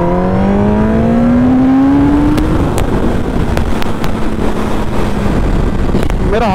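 A Kawasaki Ninja ZX-10R motorcycle accelerates hard on an open road. Its rising engine note climbs steadily through the first few seconds, then holds as a loud, continuous roar mixed with heavy wind buffeting at the microphone.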